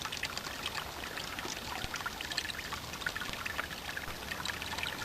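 Water trickles and splashes through a hiker's gravity water filter at a slow flow rate, a steady, faint, close patter of droplets that keeps going without a break.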